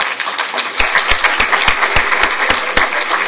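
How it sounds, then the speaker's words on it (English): An audience at a citizens' association candidate forum claps, a dense, steady wash of applause with a few sharp individual claps standing out, fairly close and continuous for a few seconds. "Applause is in order."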